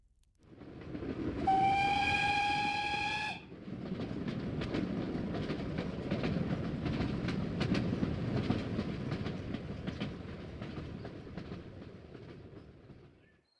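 Steam-style train whistle blows for about two seconds, then a steady rolling rumble of carriages and faint rail clatter continues to the end, a train-journey sound effect in a Sherlock Holmes audio drama.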